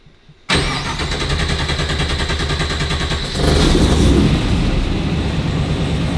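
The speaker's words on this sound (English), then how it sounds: "And then here, our start button." Land Rover Defender engine fired by a start button: after a brief hush it catches abruptly and runs loud and close with a rough, even thrum, then climbs to a heavier, louder idle a few seconds later, with no voices.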